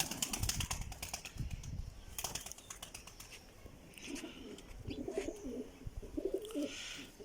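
Chhatri breed pigeons coo in a loft at Manchanabad, with soft, throaty burbling bursts in the second half over faint background noise and a few sharp rustles.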